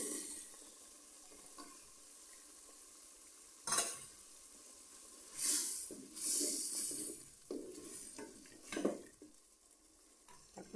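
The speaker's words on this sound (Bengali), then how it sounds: "আগে বেগুনগুলো দিলাম" Eggplant pieces dropped into hot oil for a Bengali vegetable khichuri, giving soft bursts of sizzling and stirring that swell and fade several times against a quiet kitchen background, with no talking.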